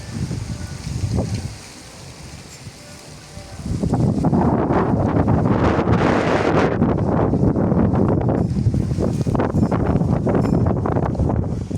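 After a quieter moment, a powerful hurricane-like gust of wind ahead of a thunderstorm in Chernivtsi slams in and keeps roaring loudly and continuously, buffeting the microphone.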